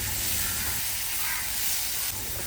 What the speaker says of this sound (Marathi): हे वाटण आपल्याला कालत्याने हलवत ठेवायचं आहे नाहीतर तव्याला पूर्ण चिपकून बसेल